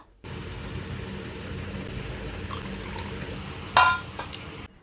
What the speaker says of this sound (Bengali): তো এবার জলটা খেয়ে নেবো।